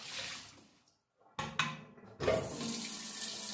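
A kitchen faucet runs water over a Berkey water filter being rinsed: a steady stream, a brief pause, then sharp splashy bursts as the flow restarts and continues strongly.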